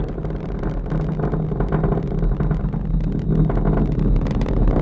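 Three-engine Delta IV rocket roaring about 50 seconds into flight during launch, a loud, steady, broadband rumble that holds continuously throughout with no voices over it.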